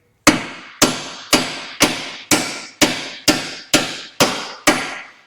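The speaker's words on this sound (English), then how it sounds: "So I'm going to use my brass hammer again." A brass hammer knocks a car's lower ball joint bolt out of its mount with ten evenly spaced, sharp metallic strikes, each ringing briefly, loud and close.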